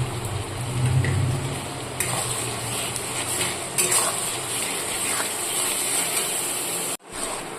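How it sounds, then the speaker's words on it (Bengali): Spice paste of chilli and cumin with chopped tomato, salt and turmeric frying and being stirred in a pan, a continuous close sizzle with utensil scraping and clinks that cuts off abruptly near the end. "মশলাটা 5 মিনিট ধরে ভালো করে কষিয়ে নেব"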